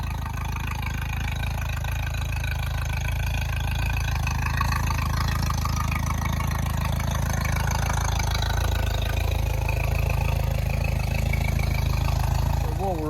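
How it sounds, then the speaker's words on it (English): A Suzuki outboard boat motor idles steadily at a low, even rumble throughout, close and continuous with no clear revving. "While we're at giving the motor a run up"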